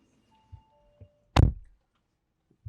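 A single solid thud of an Audi Q7 S Line door shutting, loud and close, surrounded by faint clicks and a brief chime in an otherwise quiet space.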